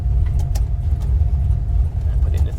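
An LS-swapped Chevrolet Nova with a big cam and naturally aspirated V8 is driven in third gear, giving a steady, close, deep low-pitched engine drone with no speech over it.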